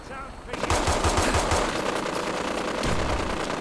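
Rapid automatic gunfire from the video game Fallout 4 erupts after a brief quiet moment, then runs as a loud, dense, continuous burst of shots to the end.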